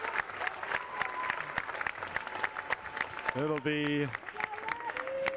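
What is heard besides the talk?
crowd applauding at a basketball game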